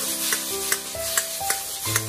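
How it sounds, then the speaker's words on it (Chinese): Bitter melon being stir-fried in a wok over high heat, with a steady sizzle and periodic scraping strokes of the spatula roughly every half second, close and fairly loud with no talking. "这里要用大火翻炒，炒出锅气"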